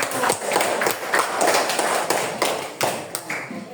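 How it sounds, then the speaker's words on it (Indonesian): A classroom of students claps in a burst of applause, a dense run of sharp overlapping hand claps lasting several seconds at steady loudness. "Bagus, hebat, tepuk tangan."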